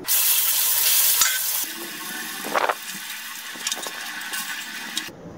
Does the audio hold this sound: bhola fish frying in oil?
yes